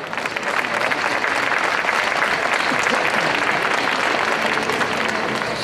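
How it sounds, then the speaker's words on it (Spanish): A large audience at an international folk music and dance festival in Jaén applauds, a dense and steady roar of clapping that holds at full strength from start to finish. "Otro aplauso para él."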